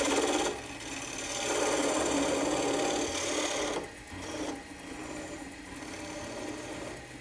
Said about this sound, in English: The bottom needs to be flat, so I'm going to just make a couple cuts on the bottom.